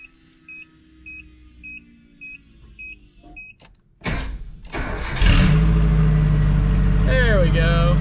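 A Nissan Hardbody pickup with a newly fitted exhaust: a soft electronic chime beeps repeatedly, then the starter cranks briefly and the engine catches and settles into a loud, steady idle close by, with a voice briefly near the end.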